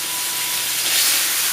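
Filet mignon sizzles in a hot pan just after being flipped, a loud, steady hissing sizzle running throughout with no voices.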